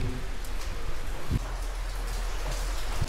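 Steady rain pours at an old stone temple, a dense even hiss of drops hitting surfaces, with a few heavier splashes and close taps standing out against the constant wash.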